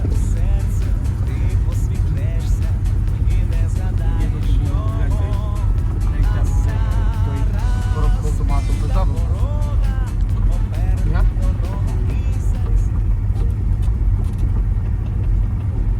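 A car being driven, its engine giving a loud, steady low rumble throughout, close up from inside the vehicle, while people talk over it.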